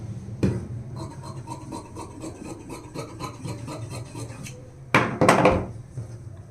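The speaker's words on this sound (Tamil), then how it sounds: "ஃப்ரெண்டை மட்டும் கரெக்டாக வச்சு கட் பண்ணி எடுத்துடலாம்." Scissors cut through blouse-front fabric laid out for sewing in a rapid, steady run of close snips, ending in a louder rustle as the cloth is handled.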